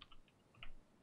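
Soft, quick keystrokes on a computer keyboard, a brief faint burst of a few taps close by in an otherwise quiet room.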